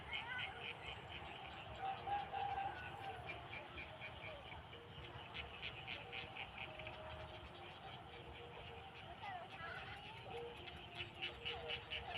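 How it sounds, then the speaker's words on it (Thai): Frogs croaking outdoors in the evening, a dense continuous chorus of calls heard at a low level from some distance, with people talking over it at times. "เสียงกบเสียงเขียดร้องเพราะมากเลย"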